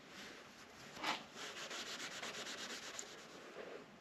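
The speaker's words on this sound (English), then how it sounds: "I'm going to take my steel wool here, put a little bit of elbow grease into it" Fine steel wool scrubbed against the metal parts of a Fatboy motorcycle, a quiet rapid scratchy rubbing in quick back-and-forth strokes, close and continuous.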